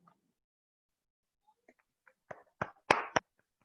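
Online meeting participants clap in a few scattered, uneven bursts, sparse and faint at first and then louder and denser toward the end, with no talk over them.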